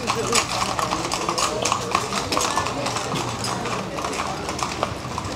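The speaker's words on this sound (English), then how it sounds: "They're bringing the horses." Horses clip-clop on the ground as they are brought in and hitched up in Costa Rica, a dense, continuous patter of hoofbeats with a voice talking over it.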